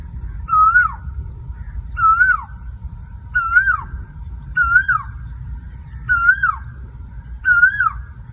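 Asian koel calling nearby, six evenly spaced rising whistled notes repeating about every second and a half over a low rumbling background.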